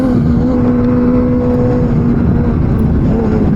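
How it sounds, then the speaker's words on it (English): A motorcycle engine runs steadily and loud on the Streets of Willow Springs race track, a sustained droning note with a slight pitch rise while riding, with no talk over it. "I could hear his bike."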